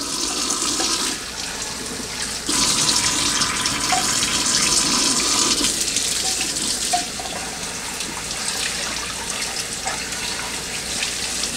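Water runs steadily from a kitchen tap as a cold press juicer part is rinsed under it, a continuous close splashing rush that swells louder partway through, with light clinks of the part and no talking.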